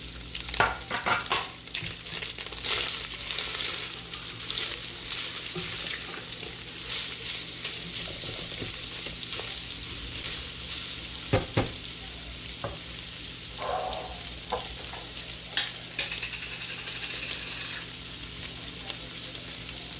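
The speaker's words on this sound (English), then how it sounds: "I'm going to add the garlic and the onions." Garlic and onions fry in a pan for a quick weeknight dinner, giving a steady, close hiss and crackle that carries on throughout, with a few soft stirring scrapes and knocks now and then.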